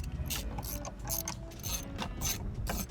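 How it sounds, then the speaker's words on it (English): Screws are driven back into the blower motor housing of a 2004 Mercedes S-Class, making a close, rapid ratcheting whir with a rhythmic clicking texture throughout. "the last step is put our screws back in"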